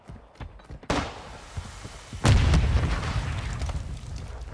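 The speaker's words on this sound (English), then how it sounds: "Tossing grenade!" In Call of Duty, a grenade lands with a thunk and explodes with a loud, deep boom that rumbles and fades over a couple of seconds, following lighter clicks and thuds.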